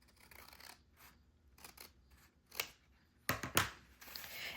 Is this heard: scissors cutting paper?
yes